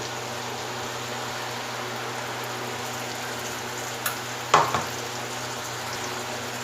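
Ground spice paste frying with softened tomatoes in plenty of oil, a constant even hiss of sizzling with a brief utensil clink partway through.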